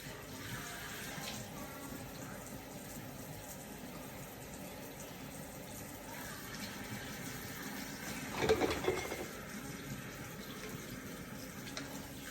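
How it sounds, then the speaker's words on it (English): Tap water runs into a kitchen sink while ginger is rinsed under it, a steady close hiss with a brief louder splash about two-thirds of the way through. "rinse it off."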